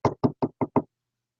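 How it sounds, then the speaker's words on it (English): Five evenly spaced knocks rap on a door in quick succession, close and clear, then silence. "I get another knock on the door."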